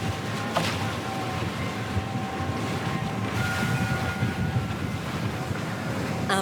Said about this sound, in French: Aujourd'hui, sur l'eau, des rafales à 70 km/h.